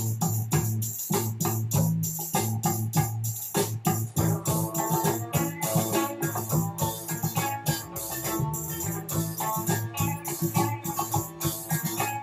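A 1974 record by a Turkish musician plays with dense rhythmic band music, a driving beat with sharp percussive hits and layered instruments, loud and continuous throughout.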